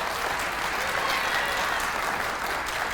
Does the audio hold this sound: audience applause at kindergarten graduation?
yes